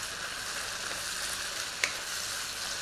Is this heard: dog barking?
no